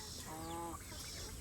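A chicken in a coop before a thunderstorm gives one short, harmonic call, held briefly and then falling away, over a steady wash of background noise with no other clear sounds.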